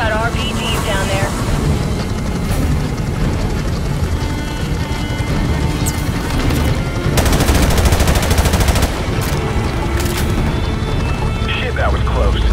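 Automatic and heavy gunfire from a helicopter battle in the Call of Duty Remastered mission Charlie Don't Surf, with rapid machine-gun bursts, explosions and rotor-like rumble, loud and continuous throughout, with radio chatter mixed in.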